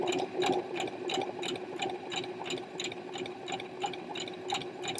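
Close sewing machine hemming a boxy tee, a fast even run of rhythmic stitching clatter with regular ticking pulses and a steady motor hum, continuous and alone.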